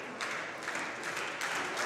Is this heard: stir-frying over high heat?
no